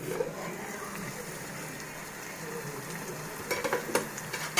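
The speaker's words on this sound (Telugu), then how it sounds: "మూత పెట్టుకొని చక్కగా ఎర్రగా వేయించుకోవాలి." Onions sizzle and fry in a covered pan with a little salt, a steady soft crackle throughout, with a few louder stirring clatters near the end.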